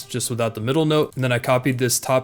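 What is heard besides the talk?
None of the usual background noises is heard.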